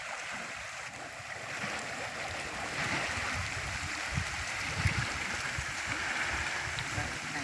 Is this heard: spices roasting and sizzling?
no